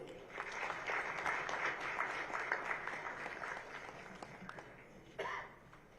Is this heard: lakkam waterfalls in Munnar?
no